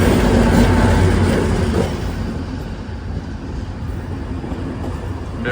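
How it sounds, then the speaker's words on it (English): A train rumbles steadily close by at a station in Slovenia, a loud low mechanical drone that eases slightly after the first couple of seconds, with no one speaking. "Here we are on the station, and this is our train."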